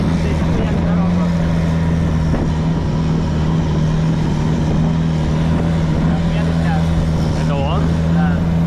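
A steady, loud longtail boat engine drones throughout on the sea off Koh Phangan, with wind and water noise and voices faintly in the background.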